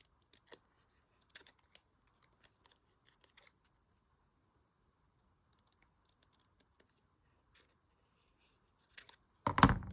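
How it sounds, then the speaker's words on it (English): Scissors snip shapes from folded paper, a handful of faint, sparse, close cuts spread out with long quiet gaps. A louder rustle of handled paper comes at the very end. "we can cut out these little white shapes"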